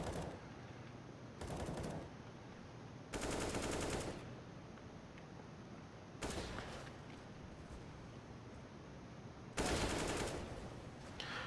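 A tactical shooter video game fires loud bursts of automatic gunfire in several separate volleys, each one to two seconds long with short gaps between them, heard over a faint background hum.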